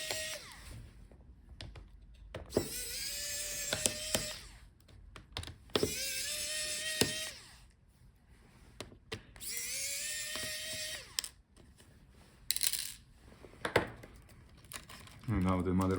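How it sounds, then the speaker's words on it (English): An electric screwdriver backs out screws from a Lenovo Legion Slim 5 16ARP9 laptop, with repeated rising whirring bursts of a few seconds each, separated by clicks and brief pauses. "now let's take out all the remaining screws."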